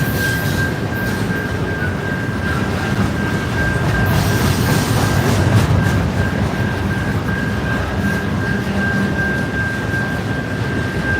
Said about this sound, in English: a priority train rolling through.